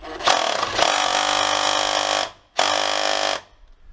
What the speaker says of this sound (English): Let's try the Makita on its high setting.